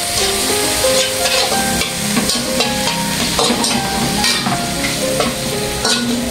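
Soy sauce hitting a hot pan of sautéed pork and vegetables, a steady loud sizzle with frequent scraping stirs and clinks of a utensil against the pan throughout, no talking.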